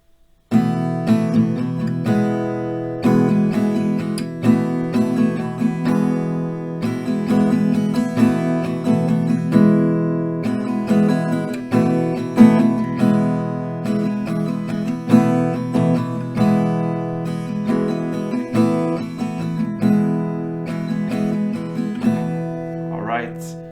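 An acoustic guitar strums a steady chord pattern in a regular rhythm, ringing close and clear for several rounds before stopping.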